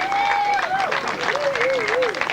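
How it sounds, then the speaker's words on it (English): A crowd at a 1997 grass track sidecar race meeting claps and cheers for a sidecar passenger, a loose patter of applause beneath someone talking over the loudspeaker. "give him a cheer, why not?"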